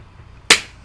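A single gunshot sound effect fired from a button: one sharp, loud, close crack with a short decaying tail, alone.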